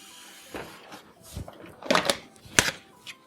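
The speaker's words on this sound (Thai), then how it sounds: "ซึ่งเดี๋ยวเราแกะด้านหน้าให้ดูกัน" Plastic front panel being pried off a Thermaltake Core X9 PC case: a handful of sharp clicks and snaps, close and fairly loud, spaced irregularly with small knocks and scrapes between them.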